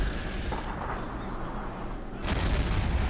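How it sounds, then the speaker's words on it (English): Artillery barrage pounding a position in Men of War: Barbarossa, a continuous rumble of distant blasts that swells into a louder, heavier impact near the end. "they're just utterly blitzing that position now with artillery"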